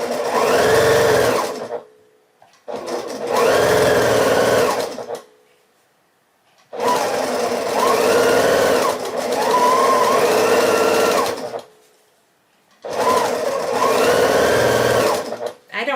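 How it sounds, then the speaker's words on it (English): A sewing machine stitches quilt star block pieces in four long, loud, close runs of steady whirring hum, each stopping briefly before starting again. "I can just feed them right through the machine"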